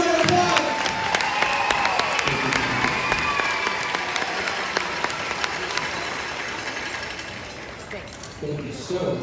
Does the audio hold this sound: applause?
yes